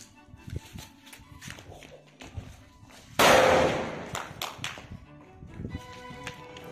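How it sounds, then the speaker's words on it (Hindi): A Spider-Man brand firecracker bursts once with a single loud sharp bang that decays over about a second, with scattered small taps and clicks before and after. "और ये है स्पाइडरमैन क्रैकर, जिसकी प्राइस है 20 रुपीज़, तो चलिए इसकी टेस्टिंग करते हैं"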